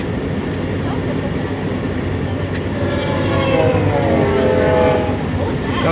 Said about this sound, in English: There comes another train.